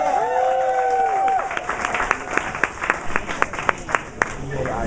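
A comedy club audience at Boiler Room claps steadily at first, then the applause thins into scattered, separate claps with a few whoops before fading.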